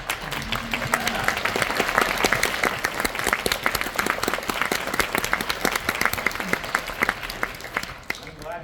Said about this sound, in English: I'm glad you clapped